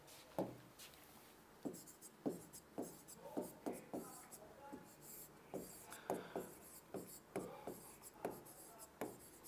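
Someone writes on a board, making quiet, close strokes and taps in a steady rhythm of short scratchy bursts across the whole stretch.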